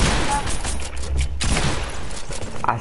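Gunfire in an online shooter video game with sniper rifle shots, a dense loud burst of reports that cuts out briefly midway and then resumes, with faint talk underneath.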